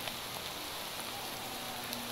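Steady rain falls at night in a survival video game, a constant hiss of drops filling the scene without any other sounds.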